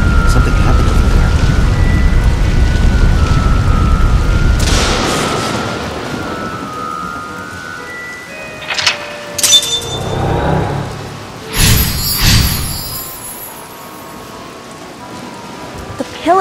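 Heavy rain pours loudly in the video game AI: The Somnium Files, then eases off, followed by a few sharp crackling bursts from a lightning strike in the later half.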